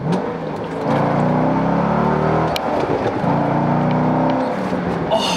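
A C6 Corvette fitted with a Corsa Sport exhaust revs loud and close, a steady deep roar that holds and swells, dips briefly midway, then climbs again, with no voices.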